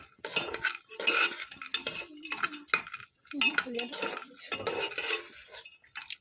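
A spoon stirs daliya (broken wheat) with nuts in a pan, scraping and clinking against the metal in close, irregular strokes with short pauses, no voice over it.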